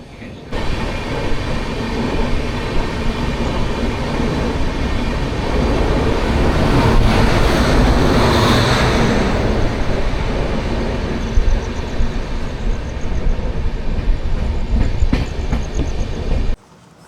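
Padatik Express, train 12378, running on rails through Barsoi Junction without stopping, a steady loud rumble with clickety-clack wheel rhythm and a rising swell mid-way, heard from onboard.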